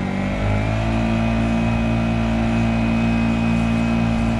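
A Honda 5 outboard motor running on a Nucanoe Pursuit fitted with a stainless steel two-blade prop, a loud steady engine drone with strong humming tones that rise a little after the start.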